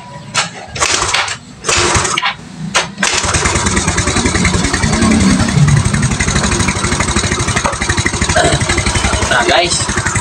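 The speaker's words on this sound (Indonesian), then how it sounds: "kita dengarkan suara mesinnya apakah knalpotnya bocor atau tidak" A motorcycle engine with a bolted exhaust starts after a few short cranking bursts, then settles into a steady, loud, close idle with a rapid even putter while the exhaust is checked for leaks.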